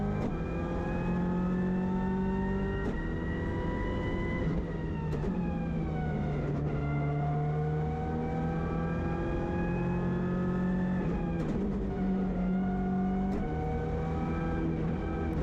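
Onboard engine of a rally car accelerating at Cadwell Park, loud and close throughout, revving up through the gears with rising pitch, dropping at each shift, then climbing again as it regains speed.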